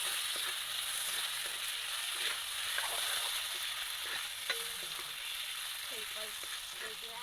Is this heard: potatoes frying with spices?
yes